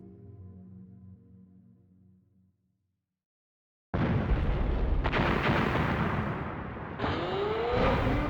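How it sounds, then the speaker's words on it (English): A sudden loud blast erupts in a video game after a few seconds of quiet, followed by a sustained roaring rumble and a second burst, heard alone without speech. "It sounded like an explosion."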